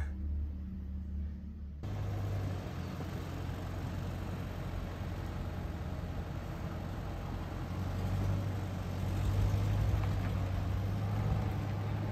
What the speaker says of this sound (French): le camion va retrouver la route.